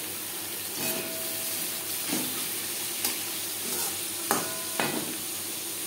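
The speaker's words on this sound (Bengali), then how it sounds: "পেঁয়াজ লালচে করে ভেজে নেব।" Onions fry with tempering spices in a pan for a masoor dal and banana-stem ghonto, giving a continuous close sizzle. A spatula stirs now and then, adding a few scraping taps. No speech.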